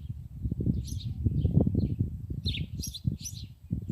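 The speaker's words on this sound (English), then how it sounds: "Do you hear all the birds at my house?" Birds outside a house chirp and tweet in quick bursts, some near and some farther off, over a low rumbling background.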